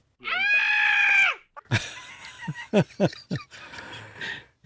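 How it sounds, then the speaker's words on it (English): A high, drawn-out girly scream sound effect, loud and close, lasting about a second, followed by quieter clipped bursts and chatter. "This little girly scream is brought to you by Glenn."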